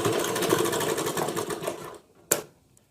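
A sewing machine stitches fitting seams on a blouse, running in a loud, steady burst for about two seconds before stopping, followed by one short sharp click.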